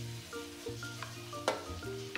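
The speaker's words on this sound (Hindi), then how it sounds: "इसको हम 2-3 मिनट के लिए भून लेंगे, सौते कर लेंगे" Paratha filling of grated radish (mooli) and prepared ingredients sautéing in oil in a pan, a steady close sizzle with a few brief clinks and stirring scrapes, no talking.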